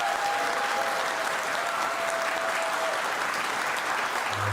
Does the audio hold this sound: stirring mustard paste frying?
no